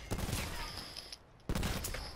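Video game gunfire comes in two rapid, rattling bursts, faint and somewhat distant, with a short lull between them.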